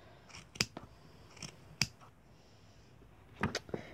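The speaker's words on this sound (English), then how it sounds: "Just trim and trim and trim." Scissors snipping a yarn pom pom while trimming it into shape, several short crisp cuts in quick pairs with pauses between, close and clear with no talking.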